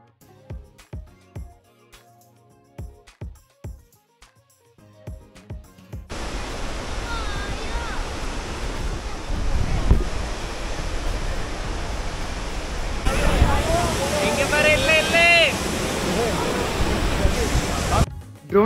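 Athirappilly waterfall, a loud, continuous roaring rush of falling water that starts after several seconds of quieter sound with a few short knocks and holds steady to the end, with voices heard briefly.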